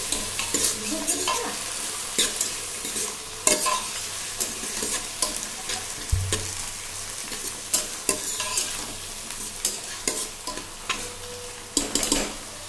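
Dal being stirred in a pot over heat, with repeated scraping strokes of a spoon against the metal over a steady low sizzle of frying, close and fairly loud, no one speaking.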